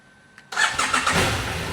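A motorcycle engine catches after a quiet pause, firing abruptly and settling into a rough, uneven idle close by.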